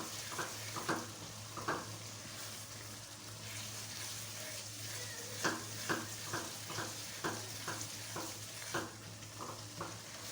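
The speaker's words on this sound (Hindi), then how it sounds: "अच्छी तरह से इसकी भुनाई करें मसालों के साथ।" Minced mutton keema frying in a karahi with spices, a steady close sizzle with a low hum beneath and repeated sharp scraping clicks of a spoon stirring through the meat, no voices.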